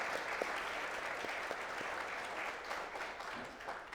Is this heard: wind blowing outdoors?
no